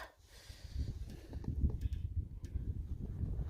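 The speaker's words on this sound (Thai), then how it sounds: "ลมแรงไม่แรงก็ฟังเสียงลมแล้วค่ะ" Strong wind by a river in Finland buffets the microphone with a low, rumbling roar that gusts unevenly throughout.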